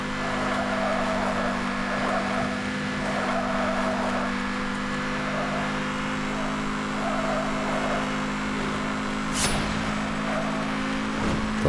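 A racing car in Need for Speed: Hot Pursuit (2010) speeds through a time-trial race with a constant loud engine drone and steady tonal whine, broken by one brief sharp hit near the end.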